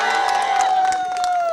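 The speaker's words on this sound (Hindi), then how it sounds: "तालियां हो जाए इनके लिए।" Audience cheering and clapping at a large business seminar, a loud crowd roar with scattered claps and a held tone running underneath.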